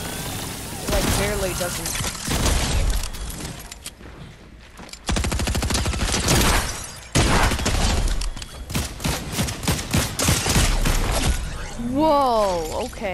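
Shotgun blasts in Fortnite sound as loud, repeated gunfire bursts across the stretch, mixed with other weapon fire and game effects, while a player talks over the action.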